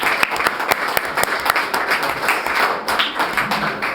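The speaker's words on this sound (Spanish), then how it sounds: "les pido un fuerte aplauso para él" An audience at a televised debate at a university in Morelia, Michoacán, applauds loudly and steadily, dense clapping throughout.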